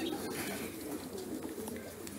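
Racing pigeons cooing and calling at the loft of a Polish pigeon breeder as birds return from a flight, a steady outdoor backdrop of soft bird sounds with faint wind noise.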